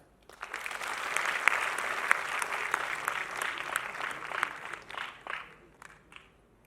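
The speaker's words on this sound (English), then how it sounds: "So I think you guys can clap for yourself." College festival audience clapping that swells quickly, holds as a dense patter of many hands, then thins into scattered claps before fading out.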